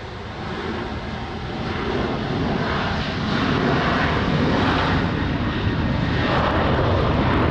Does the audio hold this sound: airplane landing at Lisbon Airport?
yes